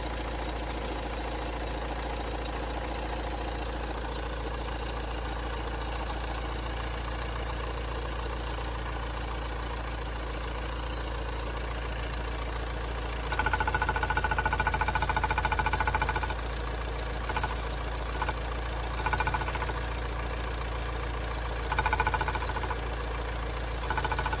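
Engine of a 2017 Nissan X-Trail idling steadily with a persistent high-pitched squeal from a suspected belt or roller fault, continuous and close throughout.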